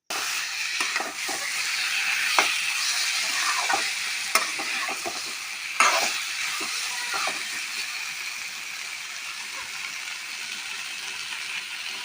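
Mixed vegetables with freshly added chopped tomatoes fry in a pan for a fish curry with red amaranth and potato. A dense, continuous hiss carries scattered scraping stir strokes, close up and without speech.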